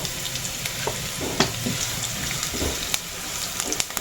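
Onions frying in a pan for papaya lumpia give a loud, steady hiss, broken by a few sharper spatters and scrape-like bursts over a few seconds.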